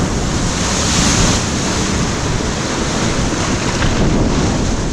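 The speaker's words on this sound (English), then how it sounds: "we're gonna wait for the big set waves to go through" Big set waves breaking on the shore of a remote island off Nova Scotia, a loud, steady roar of surf with wind buffeting the microphone throughout.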